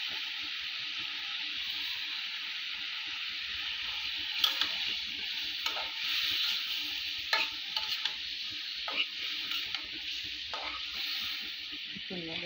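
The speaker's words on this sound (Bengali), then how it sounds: "একটু নেড়ে ছেড়ে 5 মিনিট ঢাকা দিয়ে মাছগুলোকে কষিয়ে নেব।" Stinging catfish being stirred into spice paste in a hot pan, with a steady, close sizzle and frying hiss broken by several sharp scrapes and clicks from the stirring spoon.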